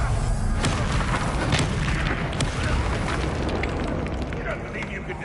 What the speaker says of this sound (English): Bombarda.